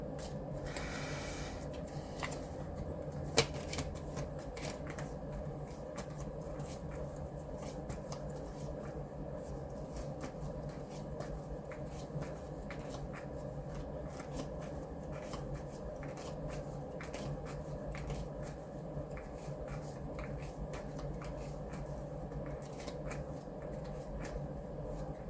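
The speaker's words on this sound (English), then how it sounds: "Let me shuffle them a bit." Tarot cards shuffled slowly by hand, a steady run of soft, quiet ticks and rustles with no voices.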